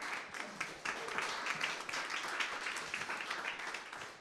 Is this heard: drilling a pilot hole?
no